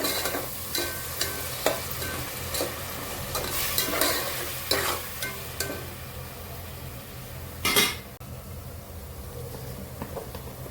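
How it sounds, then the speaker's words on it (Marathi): Tomato puree sautéing in oil for prawn biryani, a soft steady sizzle with a spoon scraping and tapping the pan in irregular strokes, one louder clatter near the end, no talk. "तेल सुटेपर्यंत आपण टॅमॅटोची प्युरी छानच परतून घेऊया"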